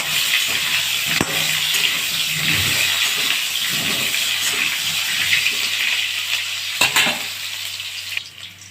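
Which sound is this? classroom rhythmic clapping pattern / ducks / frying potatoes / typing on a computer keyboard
frying potatoes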